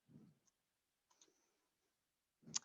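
A computer mouse clicks to advance presentation slides, with a few faint, sparse clicks separated by quiet pauses.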